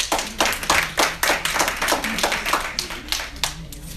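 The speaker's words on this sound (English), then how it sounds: "please give a big round of applause for Dr." Audience at a plastic surgery social mixer claps for Dr. Rich Castellano, a fairly close, steady patter of hand claps with distinct individual slaps, easing slightly toward the end.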